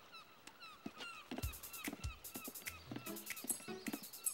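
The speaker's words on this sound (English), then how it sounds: "Those seagulls like the smell." Seagulls call in short repeated cries at a cartoon harbour as fishing boats bring in the day's catch, the birds drawn by the fishy smell; the calls are moderately faint, with some honking, clattering background sounds mixed in.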